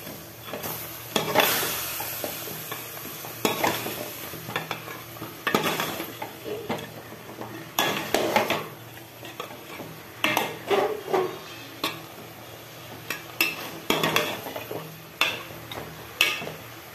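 Potatoes stir-fried with spices, ginger, garlic and turmeric in a pan, with repeated scraping and clinking strokes of a spoon against metal over a low steady sizzle, close and moderately loud.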